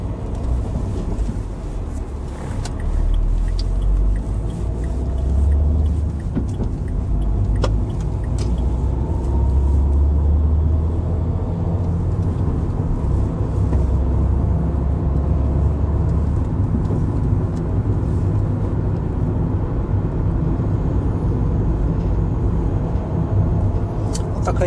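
A Dacia Dokker van drives through city streets, heard from inside the cabin as a steady low road and engine hum with occasional faint knocks, no talking.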